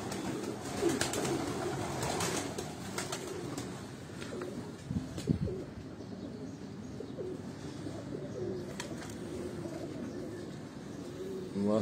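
Pigeons coo softly in low, repeated murmurs against a steady outdoor background, with a few scattered bird chirps.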